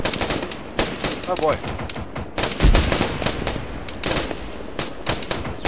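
Sustained bursts of PKT machine gun fire in the Arma 3 military game, rapid rattling volleys close and loud with a brief spoken exclamation over them.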